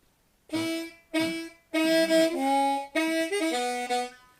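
A short harmonica turnaround lick is played as a few quick, reedy bursts. A longer bending phrase follows, close and clear, with no other sounds.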